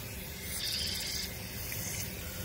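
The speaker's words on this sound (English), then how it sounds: "Spray the outside, spray down through all the holes." Hissing spray from a can or nozzle aimed down through the holes of a part on a Generac GP1500 generator, a steady close rush that swells briefly louder partway through, with no talking.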